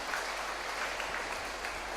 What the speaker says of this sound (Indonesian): Kita tepuk tangan untuk Pak Beni